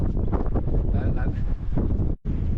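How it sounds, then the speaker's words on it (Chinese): Strong winter wind in Xinjiang buffets the microphone outdoors, a loud, rough, continuous roar with gusting surges and a brief dropout near the end. "哇，今天好大风啊！"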